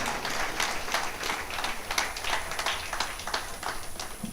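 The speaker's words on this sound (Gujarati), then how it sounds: "આપણે જોરદાર તાળીઓથી વધાવીએ" An audience at a Gujarati gathering gives loud, sustained applause, with many hands clapping densely throughout and no speech over it.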